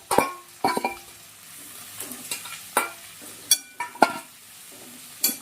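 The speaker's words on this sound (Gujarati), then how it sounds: "આપણે આ સમારેલું કોબીજ અને ગાજર બે એડ કરી લઈશું" Chopped cabbage and carrot in a pan with turmeric, stirred in short bursts: scattered scrapes and light sizzling pops over a quiet background, no voices.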